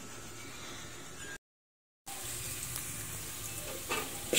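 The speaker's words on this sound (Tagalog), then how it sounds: "Gisa ang bawang. Gisa-gisa ang bawang." Crushed garlic sizzles in hot oil in a pan, a steady close frying hiss broken by a brief silent gap, with stirring scrapes and a louder burst at the end.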